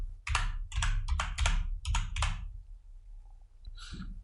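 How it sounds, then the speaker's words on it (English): Rapid bursts of clicking keystrokes on a computer keyboard come in several quick clusters, close and crisp, followed by a short pause and a final few taps. "I'm going to type watching."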